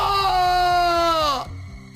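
A man screams in fright in a Hindi horror story, one long loud sustained high-pitched cry that holds steady, then cuts off abruptly into quieter background.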